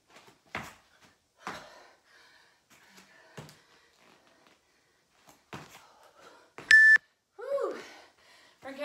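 A workout interval timer buzzer sounds once as a sharp, loud electronic beep in the middle of a cross training session, set among heavy breathing, shuffling and brief spoken cues.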